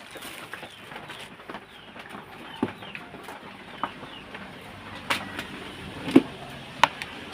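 Chicks at feeding time, giving soft, scattered clucks and peeps against a low background hiss, with a few sharper, louder calls toward the end.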